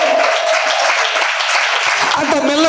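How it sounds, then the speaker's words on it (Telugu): Church congregation applauding together as a clapping offering at a Sunday service, a dense, loud sustained wash of many hands with a preacher's voice talking over it. "బెస్ట్ క్లాప్ ఆఫరింగ్ ఇస్తావా యేసయ్యకి?"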